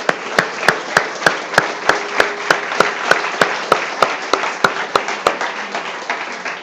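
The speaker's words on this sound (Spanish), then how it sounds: "Démosle un aplauso al Señor" A church congregation applauds, with a sharp steady rhythmic clap cutting through a broad wash of crowd clapping that gradually softens toward the end.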